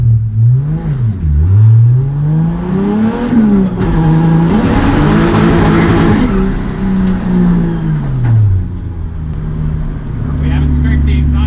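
A 2JZ-swapped BMW E36 revs hard and accelerates, engine note rising and falling through gears with a roaring tire-spinning wash in the middle, loud and close throughout.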